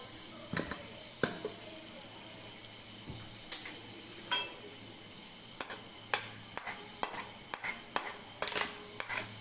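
A spoon works through a rava laddu mixture with ghee in a pan: sharp metal clinks and scrapes, sparse at first and then quicker, over a faint low sizzle in a quiet room.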